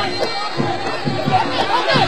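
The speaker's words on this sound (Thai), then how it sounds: "เนี่ยกองเชียร์ของมอยซ่านี่มาเต็มมุมเลยนะครับ" Boxing fans cheer for Ukrainian boxer Oleksandr Moisa at a fight, heard as a busy crowd roar with shouts rising and falling, under a commentator's voice.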